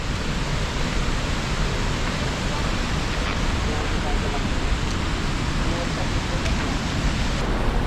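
Water thunders down at Dabosa waterfall near Jawhar, a dense, loud, unbroken roar that stays level throughout, with nothing else standing out above it.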